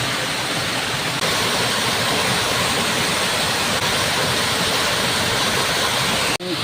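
Tungtong Falls in the Philippines pours in a dense, steady roar of rushing water, loud and close, unbroken throughout with no voices, cutting off abruptly at the very end.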